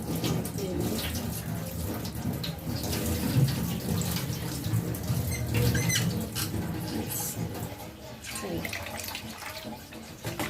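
Water is poured off soaked mung beans, a continuous close trickle and splash lasting about ten seconds at a fairly low level, with no clear speech.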